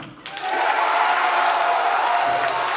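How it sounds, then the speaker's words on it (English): An assembly audience cheers for a third date contestant, a sudden swell of clapping and crowd shouting that rises after a brief pause and then holds as a broad, loud, continuous wash. "Cheer for date number 3."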